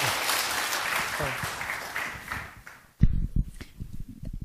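Conference audience applauds a presenter, a dense patter of clapping that fades over a few seconds before close handling noise and a brief spoken word cut in.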